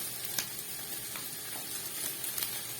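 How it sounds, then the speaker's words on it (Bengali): Steady sizzling and frying of chow mein noodles with vegetables in oil in a pan, with a few soft scraping stirs cutting through the hiss; no voices. "এর সবজিগুলো ভাজা হয়ে গেছে। এবার এর মধ্যে আমি চাউমিনটা দেবো"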